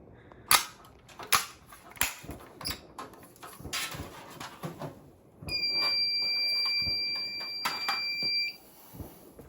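A school fire alarm system with many alarms sounds at once, a loud steady electronic tone kicking in partway through, preceded by sharp clicks and bangs.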